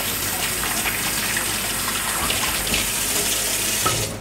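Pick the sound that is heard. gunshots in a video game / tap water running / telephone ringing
tap water running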